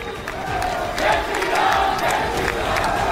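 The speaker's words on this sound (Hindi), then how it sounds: "उन्होंने जय श्री राम के नारे लगाए" A large crowd of students at a Delhi University centenary celebration chants a slogan in unison, a loud, sustained roar of many voices rising and falling in rhythmic waves.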